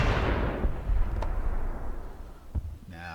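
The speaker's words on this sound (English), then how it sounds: "we're starting to bombard the enemies" Artillery bombardment in Civilization III, a loud rumbling barrage of booms with two sharper thuds late on, a short burst of voice at the very end.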